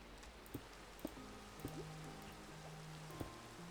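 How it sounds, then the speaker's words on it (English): Rain falls in the Minecraft video game as a steady soft patter, with a few louder droplet ticks spaced through the clip and faint tonal game sounds underneath. "Oh, right, we've got rain, do we?"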